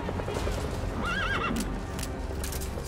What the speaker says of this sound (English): D-Horse, come to me.